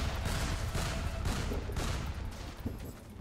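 Gunfire in the video game ChimeraLand, a dense, fairly quiet rattle of shots blending into a continuous battle wash, with repeated bursts fading slightly toward the end.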